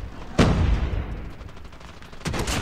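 Gunfire in the shooter game Call of Duty Mobile: a loud close shot with rattling bursts, fading, then a fresh burst near the end.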